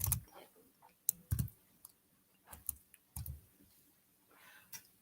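Computer keyboard typing heard as a few scattered, sharp clicks in short clusters with quiet gaps between, close and fairly loud against near silence.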